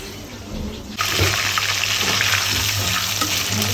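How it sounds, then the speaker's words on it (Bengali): Chilies frying in a pan for a bhuna dish, a steady loud sizzle that jumps up after a quieter first second and continues with crackles and faint stirring. "মরিচটা ভাজা হয়ে গেছে মরিচটা তুলে নিই"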